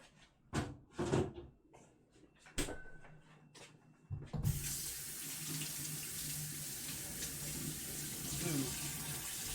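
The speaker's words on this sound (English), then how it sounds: "cold water, not hot water" Cold water runs from a kitchen tap, starting after a few clicks and knocks of cupboard handling, then flowing steadily and fairly close for the rest.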